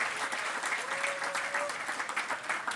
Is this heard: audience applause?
yes